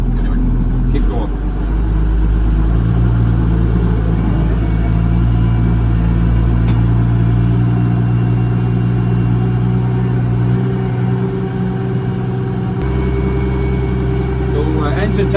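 A tractor engine runs steadily while warming up, with a loud, continuous low rumble throughout and a brief shift in tone near the end.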